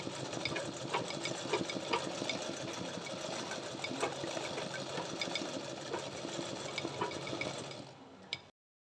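An embroidery machine stitches an outline around a flower petal with a fast, steady mechanical chatter that runs without a break, then stops abruptly.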